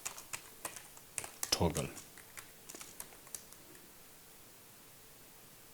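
Soft computer-keyboard typing comes in bursts of quick clicks, loudest in the first two seconds, then thins to a few light taps before fading. A person speaks briefly over it while writing code.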